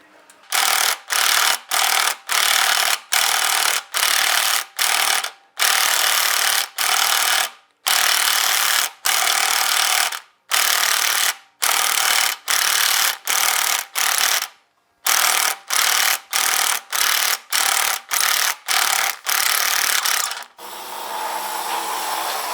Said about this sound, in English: The little snap-on gun, other guns available, goes forwards, backwards, forwards, backwards, forwards, backwards, and it works the bolt as opposed to snaps the bolt.